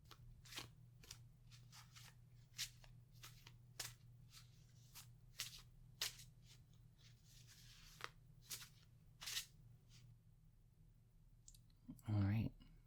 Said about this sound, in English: I want you to take this deck and shuffle it briefly